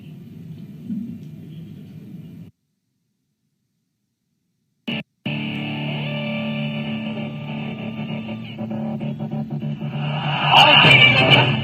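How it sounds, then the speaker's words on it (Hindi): A Dogri-language theme song for the Bharat Jodo Yatra plays at a Congress press conference in Jammu and Kashmir, starting softly, cutting out briefly, then returning as steady, fairly loud music with a sung vocal that swells toward the end. "तो पहले थीम सॉन्ग डोगरी में हम रिलीज कर रहे हैं।"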